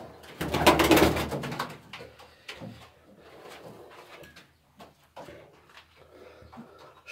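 Pigeons in a loft give soft, low coos and scattered wing flutters, with a louder burst of activity early on, then quieter intermittent shuffling and calls close by.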